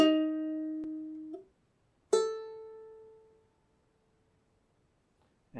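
Open ukulele strings plucked one at a time from top to bottom, each note ringing and decaying cleanly. Two clear plucks with a long fade follow, then a brief third attack starts at the very end.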